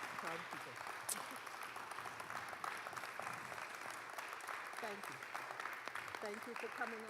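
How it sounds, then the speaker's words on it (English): Extended audience applause at a church author series event, a steady wash of clapping sustained throughout at moderate loudness, with some voices and crowd murmur mixed underneath. "That's extended applause."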